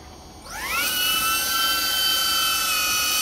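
A small camera drone's motors are started and its propellers spin up to a steady high-pitched whine that rises over about half a second and then holds loud and constant, with no talking.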